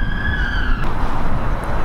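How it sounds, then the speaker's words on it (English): A siren wails briefly, its tone held then cutting off, heard over steady street traffic noise. "It's a lot of sirens today"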